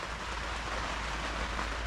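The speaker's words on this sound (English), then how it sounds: "it is surprising how noisy rain is in a tent" Rain patters steadily on a tent at night during a swim retreat in Swanage, a dense, even hiss with no breaks and no voices, heard from inside.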